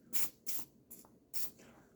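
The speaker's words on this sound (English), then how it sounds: "first I'm going to spray it in here with the bolt carrier back" Lubricant sprayed into the bolt carrier of a Rock Island Armory VR-80 shotgun during cleaning: four short aerosol hisses, three close together then one more after a pause, quiet and close.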